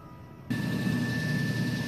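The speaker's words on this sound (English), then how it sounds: "we're using an electric motor to run the dyno" An electric motor spins up to drive an eddy current dynamometer built with disc brake rotors, a sudden jump into a loud, steady hum with a sustained tonal whine that holds evenly.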